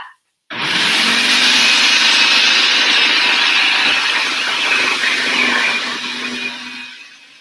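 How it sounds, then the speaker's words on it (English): A food processor grates vegetables for sunflower pâté, its motor whirring loudly and steadily for about six seconds before cutting off, with a faint low hum running underneath and no voices. "they're just going to go right into the food processor. We're going to grate these up."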